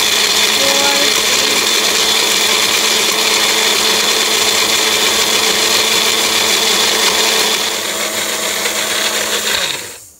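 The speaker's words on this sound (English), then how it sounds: "after blending your jerk sauce for a minute" A kitchen blender whirs steadily at high speed through vegan jerk sauce made with tamarind, a loud continuous motor drone for about eight seconds before it winds down and cuts off.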